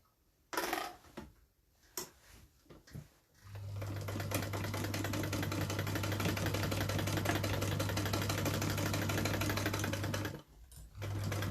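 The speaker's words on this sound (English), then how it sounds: "we're going to sew that a little bit closer to the zip this time" A sewing machine stitches a bag along its zip, using the Butler zip method. A few handling clicks come first, then a steady motor whir runs for about seven seconds and stops abruptly.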